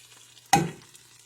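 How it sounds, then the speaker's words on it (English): White onion dropped into a hot pan of sofrito, giving one sudden burst of sizzle that fades quickly within a second. "We're going to add the half the onion, white onion."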